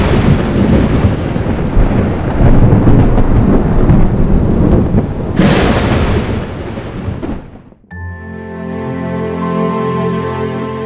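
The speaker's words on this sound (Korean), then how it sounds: "비구름 한 점 없는 마른 하늘에 가끔 천둥과 번개가 요란하게 수를 놓습니다." Thunder rumbles loudly across a dry, cloudless desert sky, a long continuous roar that swells and then cuts off, followed by a steady low drone.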